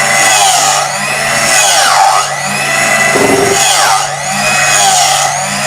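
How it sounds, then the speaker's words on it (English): Electric hand mixer beating creamy lemon frosting, a loud close motor whine running continuously with periodic swells and dips as the beaters move through the bowl, no talking. "I found that using a hand mixer helps you to get control on the time"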